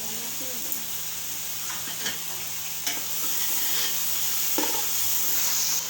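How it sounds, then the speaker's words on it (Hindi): Tomatoes frying in a pan with turmeric while cooking Dhaba-style anda ghotala, a steady broadband sizzle with a few stirring scrapes and clatters, close and continuous throughout. "अब इसमें टमाटर ऐड करेंगे।"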